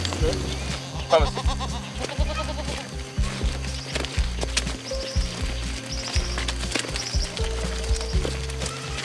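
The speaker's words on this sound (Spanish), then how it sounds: "¡Cabras!" Goats bleating at a dairy goat farm in Costa Rica, heard over a steady beat of background music, with a voice calling out nearby.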